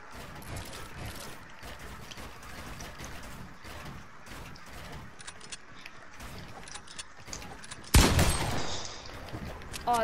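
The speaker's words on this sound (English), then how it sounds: "I'm using a purple tactical SMG" A purple tactical SMG fires in Fortnite, with rapid, clattering bursts running through most of the stretch at moderate loudness and mechanical clicks mixed in. A sharp, louder blast comes near the end.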